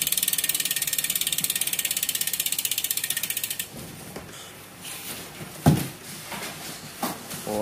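A carbon bicycle hub on a Tropix Milan road bike ratchets with a fast, even clicking that runs for a few seconds and then stops, followed by scattered handling knocks and clatter.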